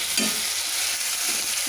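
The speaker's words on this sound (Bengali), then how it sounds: "এখন আমি পেঁয়াজটা ভালো করে ফ্রাই করে নেব" Onions frying in a pan for chicken curry give a loud, steady sizzle and hiss, with soft scraping thumps as they are stirred.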